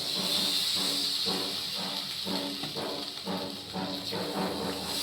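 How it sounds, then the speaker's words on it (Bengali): Water poured into a hot pan of pumpkin and potato curry sets off a loud, continuous sizzling hiss close by, with faint clatter beneath it. "এবার আমি জল ঢেলে দেবো।"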